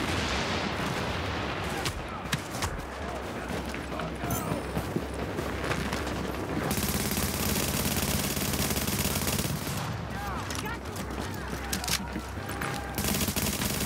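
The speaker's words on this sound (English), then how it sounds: "Getting shot on the left." Gunfire in The Division video game crackles as dense, continuous bursts of automatic and single shots amid mechanical clatter, loud and layered throughout the squad fight.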